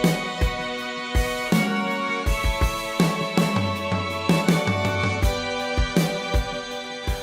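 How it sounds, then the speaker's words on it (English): Layered recordings of a real violinist's parts: several violin lines sound together as punchy rhythmic chords with sustained notes between them, full and close, with no voices. "I'll then collaborate with an actual human violinist in order to bring some character and personality to the song"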